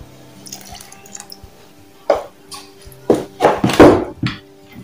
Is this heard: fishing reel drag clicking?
no